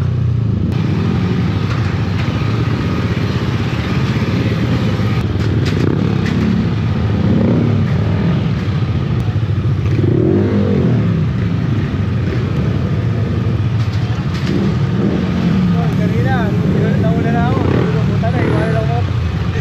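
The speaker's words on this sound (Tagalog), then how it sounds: "Ayan, mga motor namin puro Aerox." Several Yamaha Aerox scooters run their engines at a rest stop in Tanay, Rizal, making a steady, loud low motor drone across the whole stretch with shifting revs, and voices murmur around them.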